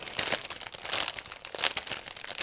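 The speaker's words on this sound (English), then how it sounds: "now I'm opening this plastic bag" Crinkling and rustling of a resealable plastic bag being opened, with dense crackly bursts through the whole stretch and a few sharper crunchy peaks, close up and fairly loud, with no talking.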